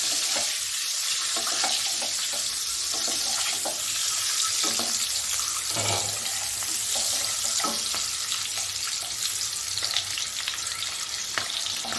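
Duck eggs fry lightly in a pan for korma with a steady, close sizzle and occasional stirring clinks, no talking.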